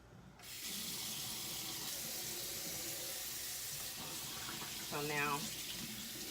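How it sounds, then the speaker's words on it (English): A kitchen faucet runs in a steady, close stream while hands are washed beneath it, with a brief splashy surge near the end and a few spoken words at the start. "I'm going to wash my hands off really good"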